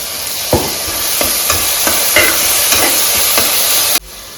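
A ground paste of green chilli, coriander, mint and tomato sizzles loudly in a hot pan, with a steady frying hiss broken by several sharp stirring knocks before it cuts off abruptly.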